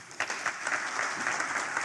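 An audience applauding at an African emerging markets forum, dense continuous clapping from a hall crowd, moderately loud and even throughout.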